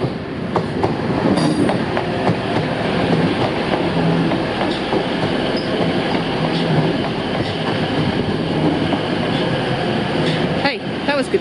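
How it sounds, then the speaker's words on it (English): A train rumbles past steadily with rhythmic wheel clatter and a brief squeal, heard outdoors from a moderate distance at the National Railway Museum in York, with faint voices in the background. "Oh, there's a train."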